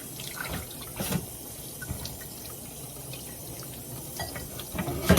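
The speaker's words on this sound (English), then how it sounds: "So now I'm going to rinse it off in some cold water." Cold tap water runs and splashes steadily into a sink, with intermittent splatters and drips as chicken wings are rinsed under the stream.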